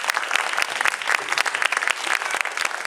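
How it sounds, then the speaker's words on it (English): Dense, steady audience applause for a group of performers, many hands clapping close by in a continuous crackling wash with no voices over it. "Let's give them another round of applause."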